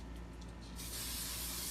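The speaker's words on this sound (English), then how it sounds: "So what I'm going to do is take my workable fixative, and again I'm using the Blair Low Odor," Blair Low Odor workable fixative sprays onto a pastel painting from close range, a sudden steady hiss starting partway through after a brief quiet lead-in.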